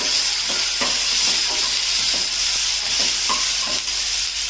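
Ginger sizzles in a hot pan for a veg Kolhapuri curry, making a continuous close hiss with a few soft stirring knocks, and no voices.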